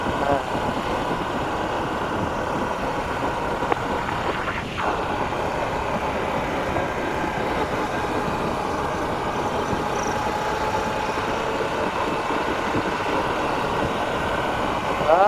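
A vehicle drives at night along a rural road near Kittampalayam, Sathyamangalam, in a steady, continuous engine and road rumble that stays even throughout, with faint voices underneath.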